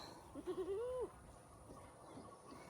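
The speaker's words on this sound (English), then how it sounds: "People tie the goats out all the time so they don't ruin the garden and keep track of where they at" A tethered goat on a rural homestead in Ghana gives a single drawn-out bleat lasting about half a second, fairly close, followed by quiet outdoor background.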